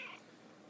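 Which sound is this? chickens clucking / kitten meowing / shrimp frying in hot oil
kitten meowing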